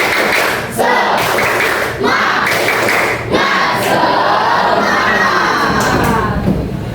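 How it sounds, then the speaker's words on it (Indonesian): A classroom of children performs the 'tepuk semangat' clapping chant, loud and close: rhythmic bursts of shouted chanting broken by short pauses, with claps and thumps under the voices. "Kita mulai tepuk semangat"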